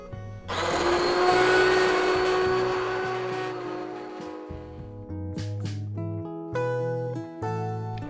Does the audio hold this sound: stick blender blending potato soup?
yes